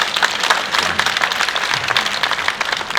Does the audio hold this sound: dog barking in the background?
no